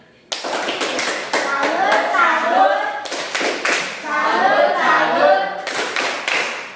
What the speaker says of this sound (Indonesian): kita tepuk salut dulu untuk dia